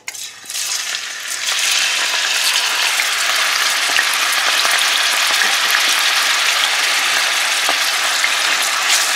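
Turkey pieces drop into a hot pot for garden egg stew and set off a loud, dense sizzle that swells within the first second or two, then roars on without a break.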